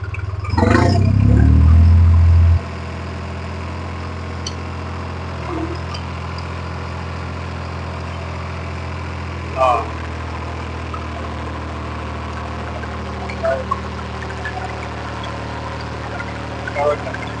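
A New Holland 3630 tractor engine runs pulling a KSA Bheem super seeder, idling steadily close by with a loud burst at the start and occasional clunks and knocks over the constant drone.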